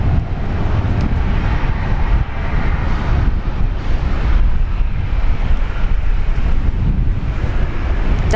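Strong wind at Brisbane Airport buffeting the microphone on a dark, cloudy morning: a loud, continuous low roar and rumble with gusty swells throughout, no voices.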